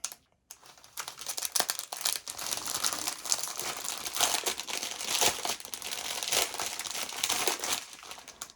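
Plastic packaging of a craft canvas kit crinkles and rustles close up, a busy run of crackling handling sounds lasting several seconds after a brief quiet start.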